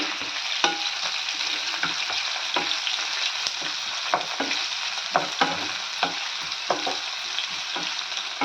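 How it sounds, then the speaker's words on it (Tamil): Finely chopped ginger fries in a pan, a constant close sizzle with frequent sharp taps and scrapes of stirring throughout, no voices. "இது நல்லா ஃப்ரை ஆகட்டும்."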